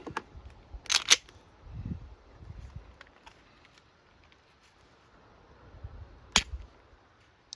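An aftermarket Glock trigger is pulled on a trigger pull gauge, giving a few sharp, close mechanical clicks: a quick pair near the start and a single snap later, with quiet between.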